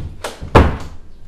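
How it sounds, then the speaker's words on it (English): A hotel room door swings shut with a solid thump, followed by a brief click of the lock being turned. Both sounds are close and indoors, with only a little room noise around them. "Okay, lock the door."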